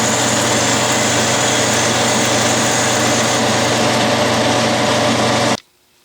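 A 1/4 inch pilot drill bit boring into a workpiece on an Atlas lathe, a steady high-pitched machine whine that runs unbroken and then cuts off abruptly near the end.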